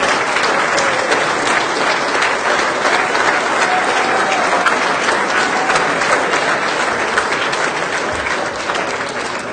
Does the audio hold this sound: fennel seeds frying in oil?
no